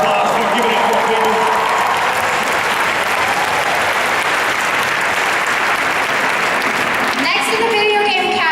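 A cosplay championship audience applauds with sustained, loud clapping and cheering that fills the hall throughout, with a few voices standing out near the end.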